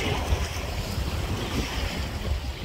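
Ocean surf washes in at a beach in a continuous low roar, mixed with wind buffeting the microphone, with no talking.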